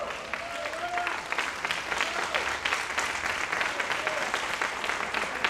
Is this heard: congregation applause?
yes